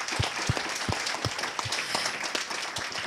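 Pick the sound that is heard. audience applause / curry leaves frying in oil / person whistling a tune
audience applause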